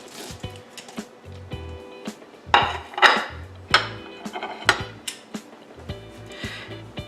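Potatoes being served onto a dinner plate for a Valentine's dinner for two, with cutlery scraping and clinking against dishes in a run of irregular close taps and knocks.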